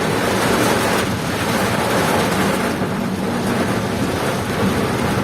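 Heavy rain and strong wind lash the Mojokerto–Krian road in a dense, loud, unbroken roar that holds steady throughout, with no talking.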